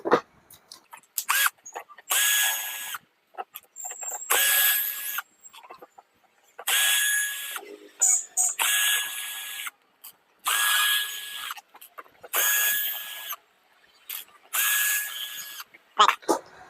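Screws being backed out of the casing of a local Sony-style home theater unit with a hand screwdriver, heard as repeated close ratcheting bursts of a second or so each, separated by short pauses, with no talk.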